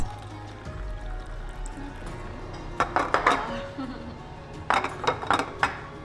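Dishes and side-dish bowls clinking in a small Korean restaurant, with a few scattered clinks early, then clusters of sharp ceramic and metal clatters later, over a low room hum and faint background chatter.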